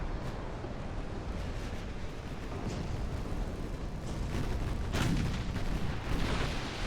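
Warship main guns firing in Ultimate Admiral: Dreadnoughts, an 1890s hulls-only naval battle, as a dense continuous rumble of heavy booms that swells louder toward the end.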